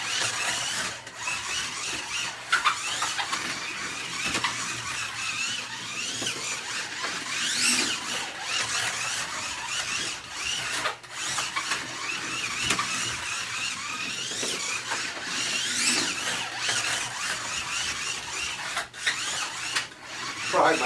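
A slot car whirs and squeals steadily around a home track, its high-pitched motor buzz rising and falling as it laps, with rubbing and rasping tones close by and no voices.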